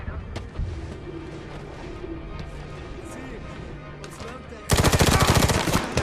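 Rapid automatic gunfire from the Medal of Honor video game breaks out near the end as a loud, dense burst, after a stretch of voices talking over a rumbling background.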